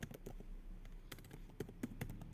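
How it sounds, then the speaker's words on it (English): Keys clatter on a computer keyboard while a search is typed into a Firefox browser on a Kali Linux machine, a handful of quiet, irregular taps close by with no talking. "here you type TOR download"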